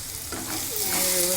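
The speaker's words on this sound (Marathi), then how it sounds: "व्यवस्थित हलवून घ्यायचं" Spices, garam masala and coriander powder, being stirred into a potato and spinach curry in a pan, with a steady close scraping and gentle sizzle throughout and a faint tonal hum in the background.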